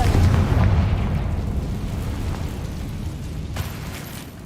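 A Confringo fire spell explodes in Hogwarts Legacy, a loud booming blast at the start that rumbles and decays over several seconds, with a smaller pop near the end and no voices.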